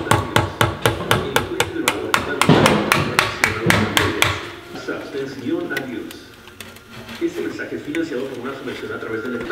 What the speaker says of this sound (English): take this spatula here, little hammer, and just kind of slowly start prying this off